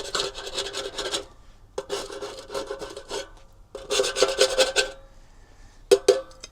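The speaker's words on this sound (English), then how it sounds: "But you can scrape along the edge like that," Close scraping of creosote buildup off the edge of a metal bee smoker lid, rough rasping strokes in three bursts of repeated back-and-forth scrapes, then a short final scrape, with no talking.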